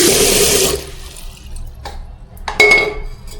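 Water rinses out a fish bowl aquarium, starting with a loud close gush that cuts off, followed by quieter clinks of glass and a second short splash of water.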